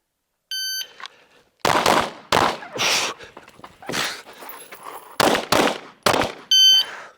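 Glock 19 pistol fired during a movement and target transition drill, a series of loud, sharp shots in quick bursts with short gaps, with electronic timer beeps at the start and end.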